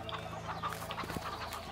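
Soft, faint clucks from chickens in the video game A Way Out, a few scattered calls over a low steady background hum.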